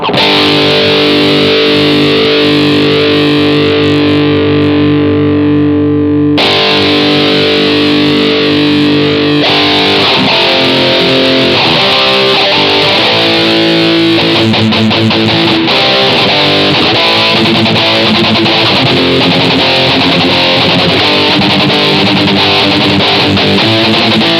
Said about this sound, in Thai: เอารีเวิร์บใส่ก่อนก็ได้ใส่รีเวิร์บเข้าไป